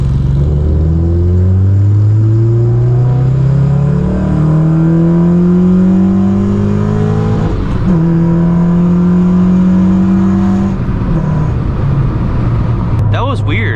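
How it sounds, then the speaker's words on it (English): A 9th-generation Honda Civic Si engine, fitted with an intake and full race exhaust, winds up loudly on a dyno in repeated rising sweeps toward a 6,500 RPM redline. The sound is close and continuous, with brief drops between pulls and a clatter at the end. "do a tune, or do a pull"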